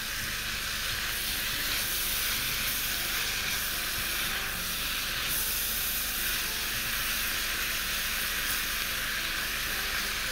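Spicy liver, cut into cubes and slices, frying in a pan on the stove with a steady, even sizzle and hiss that holds at a constant level throughout, with no voices.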